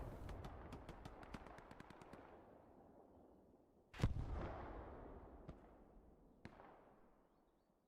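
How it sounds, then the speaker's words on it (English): Distant gunfire and explosions in the Hell Let Loose video game: a rapid string of sharp shots early on, then a heavy booming blast at the midpoint that rolls and decays, followed by a lone later shot. "Shots getting a bit quieter here, a bit less explosion, less tanking action as far as we can see."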